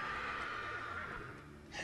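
A horse neighs in the Lego Lord of the Rings video game, a single whinny over steady game background sound, fading at the end.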